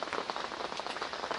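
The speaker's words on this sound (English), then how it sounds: "oh, there comes the rain again." Steady rain patters across a French carp fishing lake in a dense, even hiss of drops, close and unbroken for the whole short stretch.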